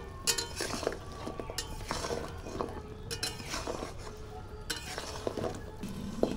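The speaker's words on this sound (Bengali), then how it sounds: "এবার গজাগুলো দিয়ে দেবো সব। এবার এটাকে নাড়াচাড়া করব।" Fried goja, a Bengali flour-and-sugar sweet, is turned in sugar syrup in a pan, with repeated scraping and clinking of a spoon against metal and a faint bubbling underneath.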